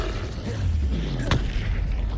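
Incendio fire spell cast in the Hogwarts Legacy video game, a sharp whooshing burst with a quick flare, over a steady low game-ambience rumble.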